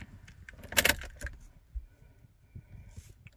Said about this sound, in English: Turn on the ignition with the original key.